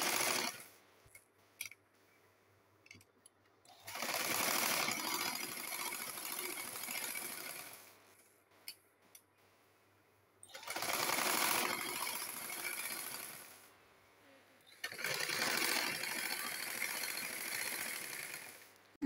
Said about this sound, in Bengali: এখন এই পাশ দিয়ে আরেকটা সেলাই দিয়ে নিব।